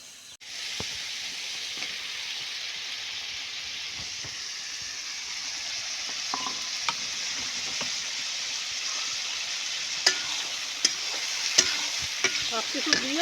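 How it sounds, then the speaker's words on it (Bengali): Spices with ginger and bay leaf sizzle steadily in a pan for a mutton curry, a continuous bright hiss with occasional stirring scrapes and a few sharp clicks of the spoon near the end. "মশলাটা ভালো করে কষায় নেব"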